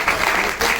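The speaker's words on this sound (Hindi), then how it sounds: "बाकी सर जबरदस्त तालियां सर के लिए" An audience claps continuously throughout a brief moment at a seminar on network marketing, the applause dense and fairly loud.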